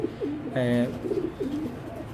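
A red checker pair of racing pigeons gives a clear close coo, a short throaty burst followed by softer rolling murmurs.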